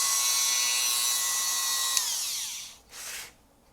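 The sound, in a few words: rotary tool drilling guitar body, sounds like a dentist's drill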